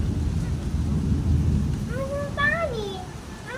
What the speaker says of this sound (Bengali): বাইরে অনেক বৃষ্টি